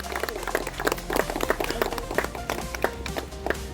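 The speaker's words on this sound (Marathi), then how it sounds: "साहेबांच्यासाठी सर्वांनी टाळ्या वाजवायच्या आहेत." Scattered hand claps from spectators at a friendly school cricket match, irregular and moderately close, mixed with background murmur and ambient field noise.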